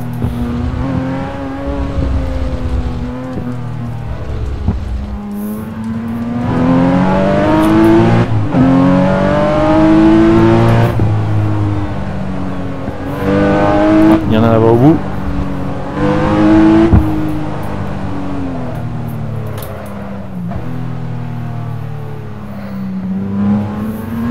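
Car engine in Assetto Corsa on the Pacific Coast road, revving and rising through gears with a steady drone that echoes off a nearby cliff face, heard close and loud throughout.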